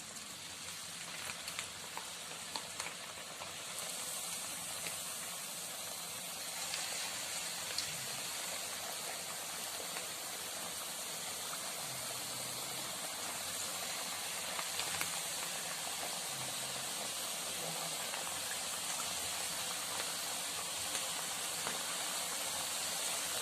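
Thattai rice crackers frying in hot oil, a continuous loud crackling sizzle with fine bubbling that holds steady throughout, close and with no voices.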